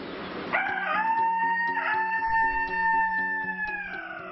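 A voice imitates a jungle fowl crowing, a loud, drawn-out call with rising and held tones, heard clearly and close with no other sounds.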